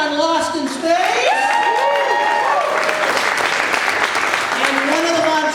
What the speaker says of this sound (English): This one will get the applause.